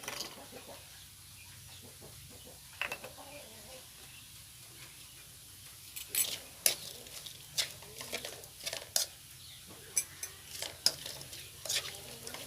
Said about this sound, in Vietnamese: các bạn xào sơ đó cho nó thấm gia vị vô đây ha